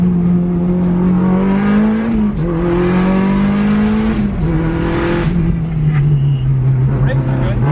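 A Nissan R32 Skyline is driven at full throttle in third gear around a corner, its engine note climbing loud and close through repeated upshifts, with a voice faintly under the engine noise.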